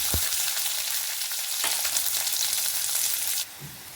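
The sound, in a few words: mustard seeds and shallots frying in oil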